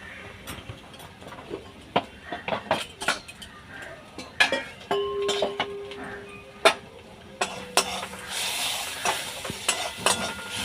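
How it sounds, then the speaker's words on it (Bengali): Spices with cumin powder fry in a pan as a spoon stirs them, giving scattered metallic scrapes and clinks over a soft sizzle that swells louder toward the end. "মশলাটা ভালো করে কষে নেব।"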